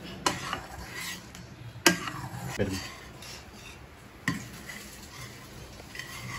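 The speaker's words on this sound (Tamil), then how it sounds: "போட்டுட்டு இதை நம்ம கிளறணும்." A spoon scrapes and clinks against a pan while gram flour mixture for Mysore pak is stirred, giving a few sharp taps over a soft continuous scraping, close and fairly quiet.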